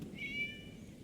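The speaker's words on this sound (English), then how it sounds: "It was just a cat." A short, soft meow sounds from a cat in a video game, a single brief call over a faint background hum.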